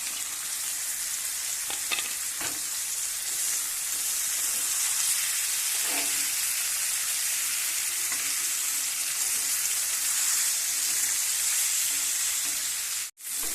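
Tiger prawns and a bay leaf sizzle in hot spiced oil, a loud continuous frying hiss with occasional spatters and stirring knocks, close up with no speech, cutting off abruptly at the very end.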